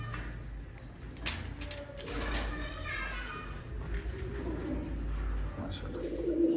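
Rooftop pigeons coo in soft, repeated throaty calls, heard close, with light scuffling, wing sounds and children's voices in the background.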